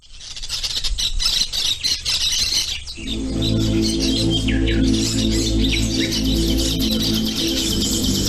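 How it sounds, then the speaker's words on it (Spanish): A rainbow lorikeet parrot lets out shrill, rapid squawks and chirps, loud and close. Partway through, a steady low hum from the surroundings rises beneath the calls. "Esta ave procedente de Nueva Guinea, Australia e Indonesia se caracteriza por relajar y satisfacer con su canto"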